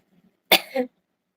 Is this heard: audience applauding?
no